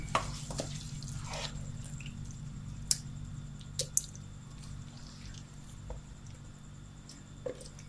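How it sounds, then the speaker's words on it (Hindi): Balti gosht is ladled out of a balti pot with soft wet squishes, drips and occasional light clinks of the serving spoon, close and quiet with no talking. "अब करते हैं इसको डिश आउट"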